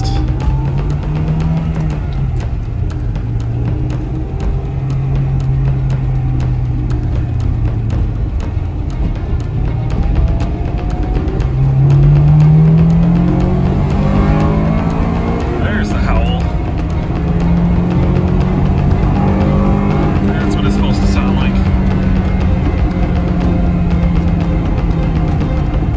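A Honda Integra Type R on its factory exhaust accelerates, engine note rising and falling through gears as it pulls away, steady and moderately loud, with people talking over it.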